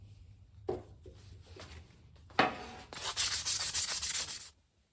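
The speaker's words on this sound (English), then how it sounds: "now that I got this all sanded smooth with some 180 grit" Steering wheel being sanded by hand with 180 grit sandpaper, a few short rubbing strokes followed by a longer burst of steady, rapid back-and-forth scrubbing, close and clear with no talk.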